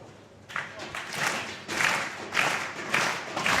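A crowd applauds a bowler at a bowling tournament final at Plaza Bowl in Saint-Maximin, rising waves of clapping that swell and fade several times, fairly close, with voices mixed in.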